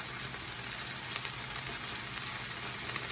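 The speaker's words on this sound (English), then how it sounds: "First thing I'm going to add are my onions." Onions sizzle and fry in a hot pan for fried rice, a steady, dense crackling hiss that fills the clip with no talk.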